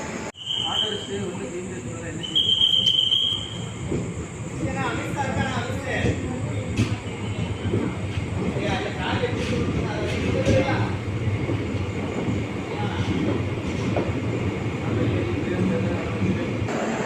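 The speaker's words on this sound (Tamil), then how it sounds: "பிளாட்ஃபார்ம் நம்பர் 1க்கு வந்தாச்சு நம்ம தூத்துக்குடி பாலருவி எக்ஸ்பிரஸ்." The Thoothukudi Palaruvi Express rumbles in at platform 1 of a station with steady broadband noise, brief high-pitched brake squeals, and people talking throughout.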